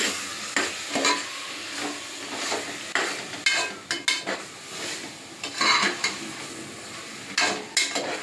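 A spoon stirs a chicken biryani mixture with coriander and mint leaves in a pan, with repeated scraping clinks against the metal over a soft sizzle, steady and close.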